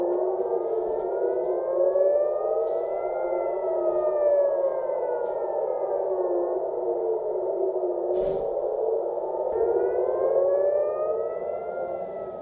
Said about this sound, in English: The sound of sirens and blasts has been heard over Tel Aviv